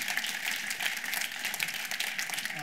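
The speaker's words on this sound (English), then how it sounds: "let's give a big round of applause for making this happen" Conference audience applause, a continuous dense patter of many hands clapping in a large room, heard steadily and moderately loud without talk.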